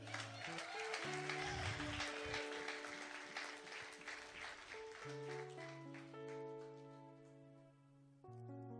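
Church congregation applauding, a steady wash of clapping from many hands heard together with sustained organ or keyboard chords underneath.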